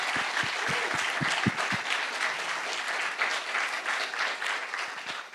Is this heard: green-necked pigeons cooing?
no